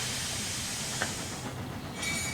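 Toy Thomas the Tank Engine train coming off its rail, a steady rolling rattle and hiss with a brief faint squeal, then a short clatter near the end, no voices.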